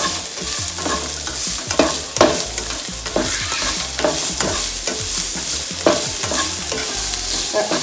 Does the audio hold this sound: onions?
yes